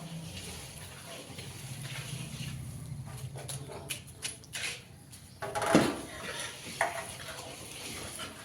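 A hot flour mixture with gond is stirred in a pan for adadiya. Quiet, intermittent scraping and occasional clinks of the spoon against the pan come close to the microphone.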